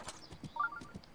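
A horse's hooves in Breath of the Wild clop softly in an uneven rhythm of a few quiet steps, with faint game chimes.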